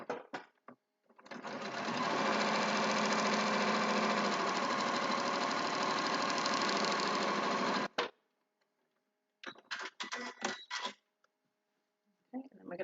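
Sewing machine stitching the final seam of a quilt block, a continuous close mechanical whir for several seconds that stops abruptly, followed by short bursts of brief stitching and handling noises.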